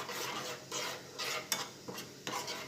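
A spoon stirs momo chutney sauce in a pan, making a few quiet, rhythmic scraping strokes with faint sizzling and no talk.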